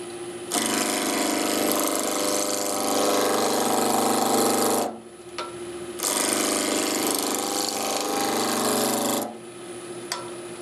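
A wood lathe spins at about 1500 rpm while a roughing gouge cuts the turning blank, giving a loud, steady, close scraping roar in two long passes, each broken off by a short quiet pause.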